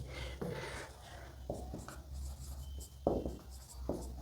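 Pen scratching on paper as words are written during a school lesson, a quiet series of short scribbling strokes separated by brief pauses, close and faint.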